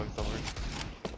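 Gunfire in the video game Counter-Strike 2 during a match, with a few quick shots over roughly a second and players talking over the game audio.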